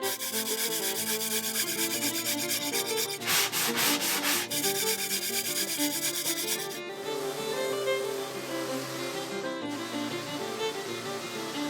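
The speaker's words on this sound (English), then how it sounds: "I did a lot of hand sanding, again because I didn't want to damage the veneer" Hand sanding of wood veneer on an old vanity being restored, a steady close scratchy rubbing with rhythmic back-and-forth strokes and a few brief pauses, alone with no talk.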